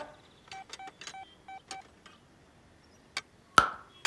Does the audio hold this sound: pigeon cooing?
no